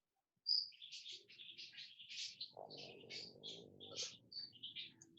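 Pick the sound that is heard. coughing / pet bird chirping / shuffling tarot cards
pet bird chirping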